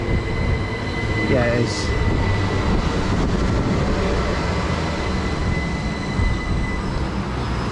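A passenger train to Southampton Central rumbles steadily at a station with a continuous mechanical drone and faint wheel squeal, while a person briefly speaks over it.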